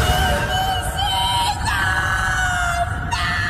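A woman's drawn-out, wavering scream as a sound effect in a Spanish-language radio horror drama, the legend of La Llorona in a nighttime canebrake; loud and close over a steady noisy bed, with shifting cries lasting several seconds.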